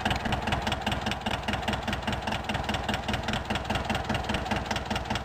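An engine idling in a steady, even rhythm, its low pulsing chug repeating evenly and continuously at moderate loudness, close by, with no voices.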